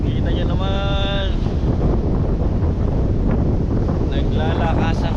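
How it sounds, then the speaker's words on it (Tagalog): Strong wind buffets the microphone over the rush of Pacific surf at a beach in Dingalan, with a person's voice briefly audible through the roar. "Naglalakas ang alon."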